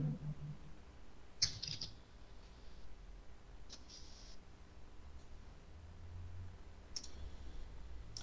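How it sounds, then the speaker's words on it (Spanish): Keys clack on a computer keyboard during a programming class, a few sharp isolated clicks scattered over about eight seconds against a quiet, faintly humming room. "El teclado de Lesba"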